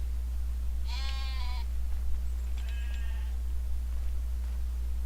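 Sheep in a farming video game bleat twice, a clear wavering call followed by a fainter, more distant one, over a constant low drone with no voices.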